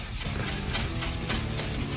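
A Scotch-Brite pad rubs steadily over an Arvika axe head, producing a close, continuous scratchy scouring in quick repeated back-and-forth strokes, with no voices.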